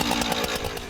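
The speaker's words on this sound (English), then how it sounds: "So Marcus, I have a real chainsaw here with no blade on it." A real chainsaw with its blade removed runs steadily at close range, a dense buzzing roar with a faint pulsing rhythm that fills the whole moment.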